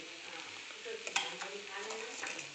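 Eggplant bharta being stirred in a pan after salt is added: a steady, close sizzle with soft scraping strokes and a couple of brief clinks against the pan, running continuously at moderate level.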